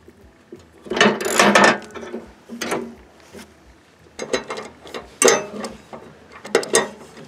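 A freshly bolted pulley on a Craftsman LT1000 riding mower deck is spun by hand, giving several short whirring, ratcheting bursts with pauses between them, close and fairly loud.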